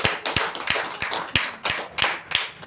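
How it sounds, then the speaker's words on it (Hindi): Clapping from an audience at a product presentation, heard as a loud, close series of sharp, evenly spaced claps in a steady rhythm, roughly three per second, with no talk over them. "इसके लिए एक बार जोरदार ताली होना चाहिए"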